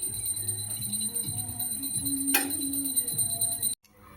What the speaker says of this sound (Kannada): ಗಂಟೆ ಸೌಂಡ್ ಬರ್ತಿದ್ದೆ ನೋಡಿ.